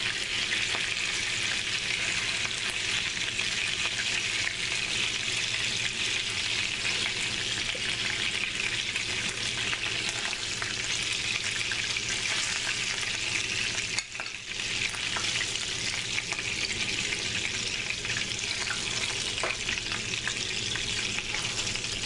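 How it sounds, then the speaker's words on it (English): Meatballs fry in olive oil with a steady, dense sizzle that holds loud and even throughout, with a brief dip midway and no talking. "Olive oil squirting everywhere."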